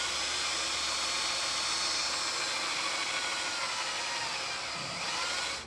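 A power drill bores holes into a vehicle frame while installing a Roadmaster rear anti-sway bar on a 2005 Workhorse chassis, making a steady, fairly quiet whirring grind that runs unbroken for several seconds.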